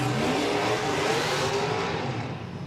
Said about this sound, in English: So 2 LS-powered BMWs here facing off. Dakota louder